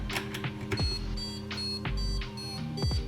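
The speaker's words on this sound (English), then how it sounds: "That sounds like a police siren." An Arduino-driven buzzer on a ROBO UNO+ board plays a siren effect, tones sweeping up and down in repeating cycles like a police siren, fairly loud and steady with no talking.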